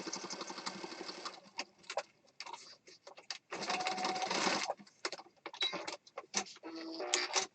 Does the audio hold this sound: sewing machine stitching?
yes